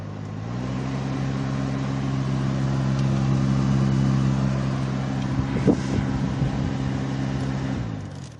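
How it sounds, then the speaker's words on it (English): A 2015 Jeep Renegade's cabin blower motor runs noisily at full blast, a steady loud droning hum with a low rumble that holds throughout, then dies away at the end. "My blower motor, when I turn it up, it gets kind of noisy. When I turn it full blast, it gets real noisy."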